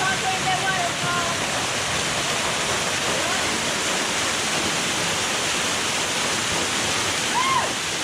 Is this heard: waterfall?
yes